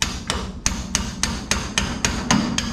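A hammer pounds a part on a 1970 Chevelle with about nine hard metallic blows at a steady, roughly third-second rhythm, loud and close with no talking.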